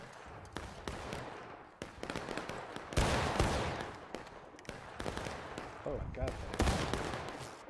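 Sharp gunshots from a battle reenactment ring out in loud broadband bursts, some single and some in quick clusters, over continuous crowd noise while a voice speaks briefly.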